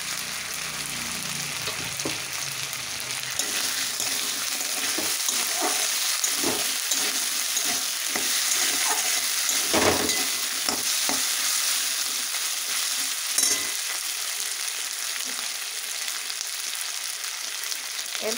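Fried potatoes with ginger paste sizzling in a pan, a loud steady hiss broken by repeated stirring scrapes, close and continuous without talk.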